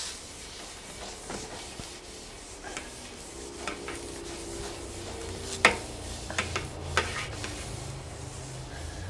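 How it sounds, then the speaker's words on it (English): Cleaning pads scrub a stainless steel Solo Stove Steelfire griddle after cooking burgers, producing quiet intermittent rubbing and scraping strokes with a few sharper metallic scrapes and clinks, fairly close but soft. "we can take our little pads here and get the rest of it"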